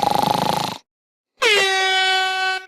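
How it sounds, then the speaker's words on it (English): An air horn blasts twice, close and very loud: a first pulsing honk cuts off, then after a short silence a second long, steady, piercing tone that wavers at its start. "Now is my chance to blow the air horn on her."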